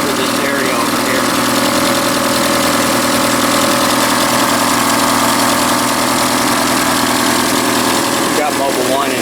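A 1982 third-generation Camaro V8 fitted with a fuel cell idles steadily and loudly up close, running for the first time in 20 years, with a constant rumble throughout.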